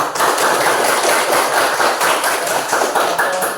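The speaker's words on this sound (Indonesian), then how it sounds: "Tepuk tangan untuk kelompok 1." Group applause from a classroom of students for the first presenting group, a dense, steady wash of many hands clapping at close range that fills the whole stretch without talk.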